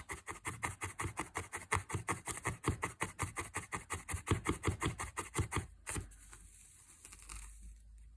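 A felting needle jabbing repeatedly into wool to attach a needle-felted donkey's tail, making rapid, even, quiet rasping stabs for about six seconds before stopping, followed by faint handling rustle.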